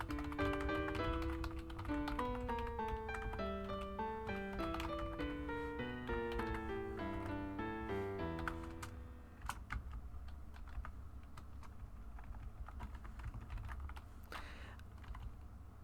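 Rapid clattering keystrokes on a French computer keyboard, a busy run of taps with tonal game-like chimes stepping along beneath them, then thinning to sparser, quieter clicks near the end; no one talks.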